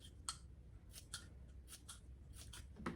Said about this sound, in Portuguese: Eu picoto chegando quase no fundo.